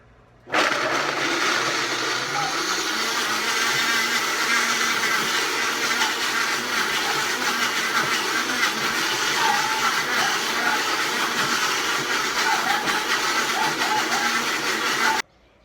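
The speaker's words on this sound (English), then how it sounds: "I just blended up the Brazilian nuts" A blender on high power grinds large Brazil nuts with seasoning, a loud continuous whirring roar that starts abruptly, runs steadily for about fifteen seconds, then cuts off.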